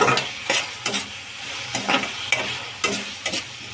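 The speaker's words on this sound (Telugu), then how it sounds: "తిప్పుకుందాం కలిసేదాకా." Ginger garlic paste is stirred into a potato and pea kurma in a pan, with about eight sharp scraping strokes of the spoon over a soft, steady sizzle, close up.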